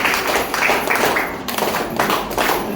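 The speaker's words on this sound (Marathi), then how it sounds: "आपण आपल्यासाठी टाळ्या वाजवा" An audience clapping at an award ceremony in Manchar, Ambegaon, a steady, moderately loud patter of many hands with a few distinct claps, close and without talk.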